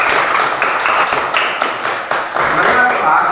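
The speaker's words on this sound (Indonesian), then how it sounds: "Kasih aplaus untuk Andri" Students in an Indonesian classroom clap for a classmate named Andri, a brief, close burst of rhythmic applause with loud, uneven hand claps.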